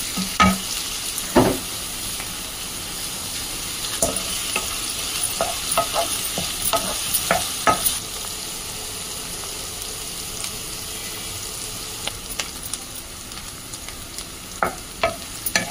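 Onions with curry leaves fry in oil in a pan, giving a continuous close sizzle broken by irregular scraping and tapping stirs, loudest in bursts at the start and near the end.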